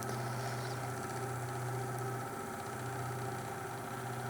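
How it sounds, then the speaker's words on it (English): Electric spinning wheel running while alpaca fibre is spun, a steady close motor hum with a low vibrating drone throughout, with no talk. "yeah, the electric spinning wheel"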